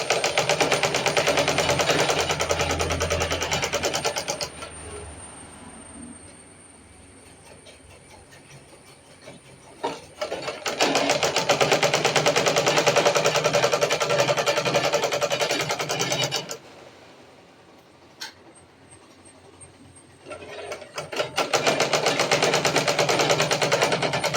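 A sewing machine stitches an A-line top in three loud rapid bursts of whirring, each several seconds long, broken by quiet pauses that hold a few faint clicks.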